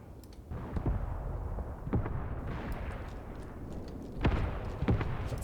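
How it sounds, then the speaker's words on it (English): Artillery shells strike in the WWII wargame Graviteam Tactics, with distant booming explosions and scattered gunfire cracks landing at irregular intervals over a low rumbling background. "these enemies are running into an artillery strike"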